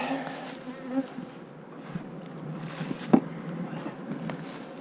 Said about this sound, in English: we got quite a few bees flying here